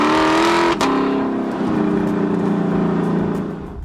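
A 2017 Lexus LC500's naturally aspirated engine revs hard and loud up close, with a quick shift blip and then a sustained, rising engine note that eases off at the end.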